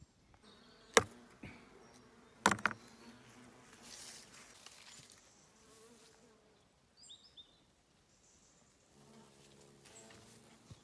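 Asian hornets buzz close by in a quiet setting, with intermittent wingbeat drones rising and fading and a few sharp knocks or taps among them.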